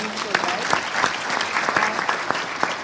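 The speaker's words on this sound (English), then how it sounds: "can I have a round of applause for these four guys?" A conference audience gives a round of applause, a steady moderate wash of many hands clapping with a few sharper individual claps standing out, and no talk over it.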